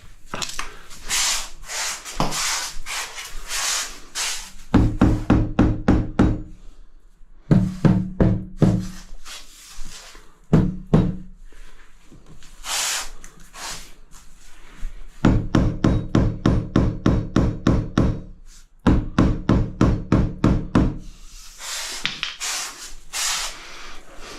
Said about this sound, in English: Where's my rubber whacker?